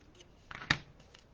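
Scissors cut paper during a mixed-media ink stamp craft project, producing a faint, single crisp snip with soft rustling around it in an otherwise quiet room.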